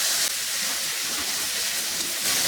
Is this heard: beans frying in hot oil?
yes